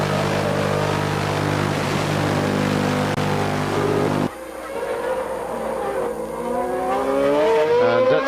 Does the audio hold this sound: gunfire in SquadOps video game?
no